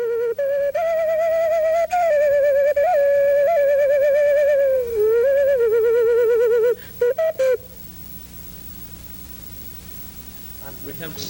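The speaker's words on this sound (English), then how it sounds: "it's a frog, and it's an imitation from an ocarina from Europe, and has just 4 holes" A small four-hole frog-shaped ocarina of the kind used across the Andes sounds a clear, breathy whistling melody with slight pitch bends for about seven seconds, then stops with a few short blown notes and quiet room noise.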